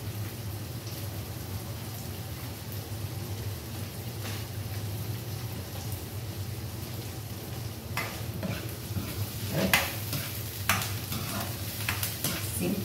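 Onion and garlic fry in a pan with a steady, close sizzle, broken by scattered stirring scrapes and crackles that grow busier toward the end.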